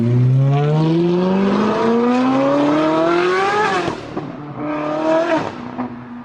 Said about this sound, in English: or like this in a Ferrari 458.